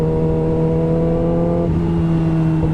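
A brand new motorcycle engine drones steadily while the bike is ridden, holding a loud, close tone. Partway through, the pitch dips briefly as if shifting gears, then carries on.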